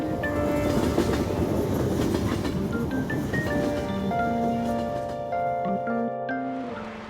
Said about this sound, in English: Looks like the train's coming.